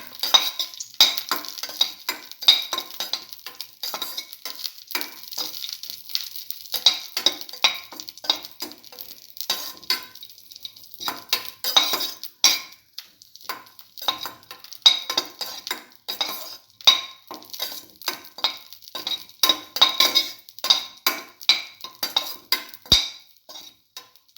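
Vermicelli and raisins sautéed in a pan, with a steady run of scraping and clinking from a utensil stirring against the pan over a faint sizzle, close and fairly loud, with no talking.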